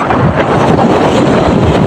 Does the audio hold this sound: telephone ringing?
no